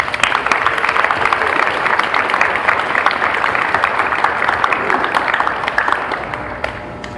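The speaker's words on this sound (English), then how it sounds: "Students, please give them a round of applause." Sustained audience applause at a high school senior awards ceremony, dense steady clapping from a crowd filling the room and tapering slightly at the end.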